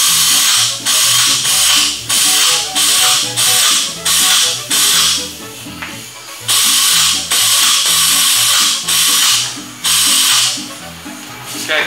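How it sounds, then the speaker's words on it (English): A flange tool crimps steel body panel on a 1969 Volkswagen Karmann Ghia during rust repair, giving loud, repeated squeezing clunks and clicks in steady bursts about every second, with no talk. "the first procedure in using a flange tool, is to go ahead before you cut anything and make the flange"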